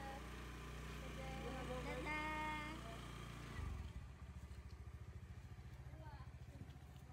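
A motorcycle rides along a road at night in Vietnam. Voices and a tonal sound come first, then a close engine takes over with a steady pulsing throb to the end.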